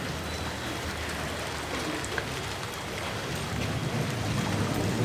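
Floodwater inside a room in Kerala produces a steady, dense wash of water noise, a continuous rain-like hiss with no talk.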